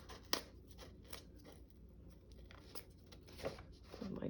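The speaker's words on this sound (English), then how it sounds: "And I need to do some peeling." Paper backing is peeled off craft journal pieces at a table, giving soft tearing and crinkling rustles with a few sharper snaps, quiet and close, with no talk over it.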